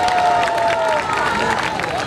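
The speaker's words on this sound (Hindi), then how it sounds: "आपकी तालियां हमें बताएंगी।" Dense, sustained clapping and cheering from a festival audience at an evening stage event, loud and continuous with a crowd murmur underneath.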